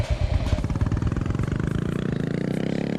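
A motorcycle engine in a video game, a close, loud engine revving with a rough pulsing putter that settles into a steady fast throb.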